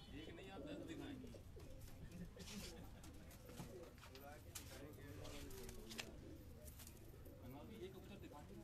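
Pigeons cooing on a Karachi rooftop, soft repeated coos spread through the clip beneath a continuous bed of low rumble and background noise, with people talking nearby.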